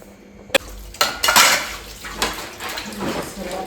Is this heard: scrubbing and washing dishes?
yes